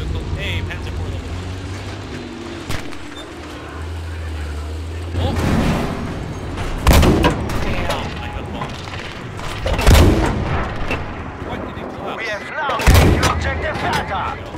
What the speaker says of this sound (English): I collapsed the bridge and the half track fell in.